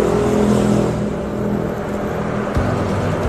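A silver Honda Vario 150 ISS scooter engine running with a loud, steady, close hum and whir, then a brief thump and change in tone near the end.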